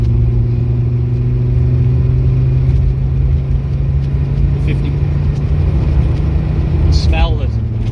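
A Mercedes 190D 2.5 diesel car fitted with a K&N air filter accelerates on the road, its engine a loud, steady low drone that continues throughout.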